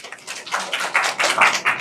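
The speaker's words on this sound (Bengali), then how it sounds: "একটা হাততালি দি" An audience claps at a career counseling program, a dense run of hand claps at moderate loudness that swells and fades in uneven waves over a couple of seconds, with no talking.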